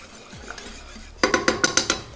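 Spoon clanks against a pot as sautéed ingredients are mixed into pizza sauce, a rapid run of about eight loud metallic strokes after a quiet stretch.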